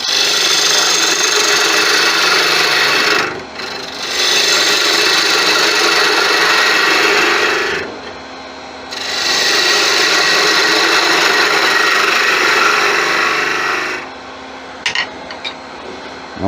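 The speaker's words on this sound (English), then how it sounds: "so I can get my fingers in there behind this so I can sand it" A turned wooden angel carving being sanded, loud broadband abrasive rushing in three long sustained passes with brief quiet gaps between, ending in a few short knocks.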